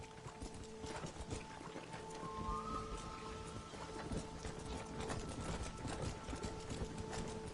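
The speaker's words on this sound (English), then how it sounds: "This storm came out of nowhere." Steady rain falls during a storm in the game Red Dead Redemption, a continuous soft hiss with horse hooves clip-clopping through it, all at a low, even level.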